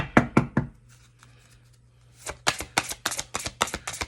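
Mystic Martian Oracle cards shuffled by hand in a tarot-style reading: a few crisp riffling bursts, a pause, then a run of quick, close card flicks and slaps.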